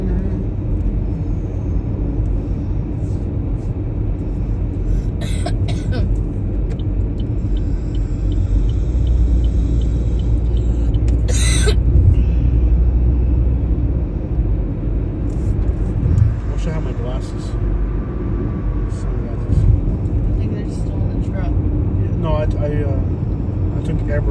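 Steady low rumble of road traffic on a northbound highway in Orlando, Florida, with vehicles droning past continuously and a few brief louder passes, under people talking.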